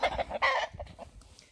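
A rooster that is a cross between a Silkie and an Easter Egger, larger than the bantams, gives a few loud, close clucks and a brief crow-like call, followed by softer scattered clucks.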